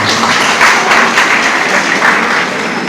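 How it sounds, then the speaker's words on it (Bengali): An audience at a college fair applauds a guest teacher, producing steady, dense clapping that fills the room and holds at an even loudness for the whole stretch. "স্যারের জন্য একটা জোরে হাততালি চাচ্ছি আমরা।"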